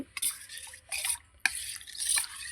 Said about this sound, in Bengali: এই ফাটানো দইটাকে আমি দুধের সঙ্গে মিশিয়ে দেব